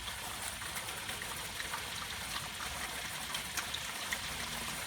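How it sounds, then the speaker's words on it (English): Water gushes out of the pressure release button on a Diamond Master filter during servicing, a steady broad rushing spray without pause, fairly close and even in level. "You can see water is gushing out."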